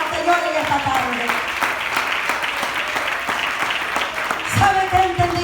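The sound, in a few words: congregation applauding in church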